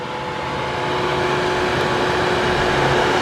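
Cooling fans of a hot Porsche Taycan Turbo electric car after repeated acceleration runs, a steady whirring roar with a constant tonal whine that swells slightly and holds.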